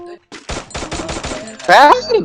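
Rapid bursts of gunfire in the video game Free Fire, a quick volley of shots followed by a louder burst with a whining ricochet-like tone.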